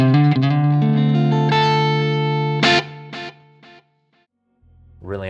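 Electric guitar notes and chords ring out through a lo-fi tape delay effect with a warm, slightly wobbly echo, each phrase trailing off into soft repeats before a new note begins.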